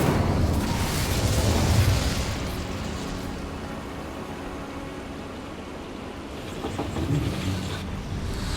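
A fire spell cast in the wizarding game Hogwarts Legacy, a roaring whoosh of flame that swells early, then settles into a steady crackling rumble before flaring again near the end.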